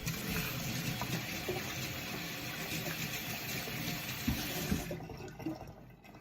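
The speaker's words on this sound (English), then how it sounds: "first things first, let's wash our hands." A kitchen tap runs steadily as hands are washed under it before cooking, a close, even hiss of splashing water that cuts off near the end.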